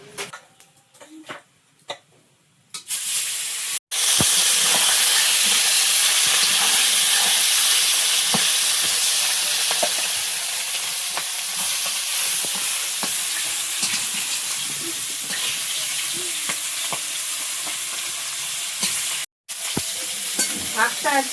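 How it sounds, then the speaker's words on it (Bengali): Fish drops into very hot oil in a home kitchen pan after a few quiet clinks, then fries with a loud, steady, hissing sizzle that continues to the end, briefly cut off once. "এখন এখানে তেল দিয়ে মাছ ভাজবো।"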